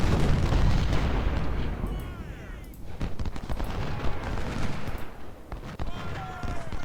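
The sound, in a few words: artillery fire in video game Ultimate General: Civil War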